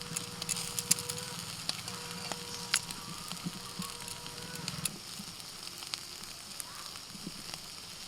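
Tandoori chicken on skewers over a charcoal fire gives a soft, continuous sizzle with scattered faint crackles and pops, quiet and close, with no talk.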